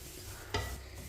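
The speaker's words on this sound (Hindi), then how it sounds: "इसे ऐसे ही चम्मच चलाते हुए हल्का सा ब्राउन कर लेना सूजी को" Metal spoon stirring dry semolina in a pan as it slowly browns for halwa over low heat, with a brief louder scrape midway against a soft steady background.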